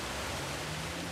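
A waterfall in the video game Uncharted 4 gives off a steady, full rushing roar of falling water, continuous and even throughout with no voices.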